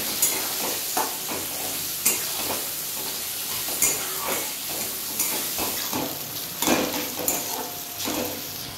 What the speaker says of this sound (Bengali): এবার আমি এই পেঁয়াজগুলোকে ব্রাউন কালার করে ভেজে নেব।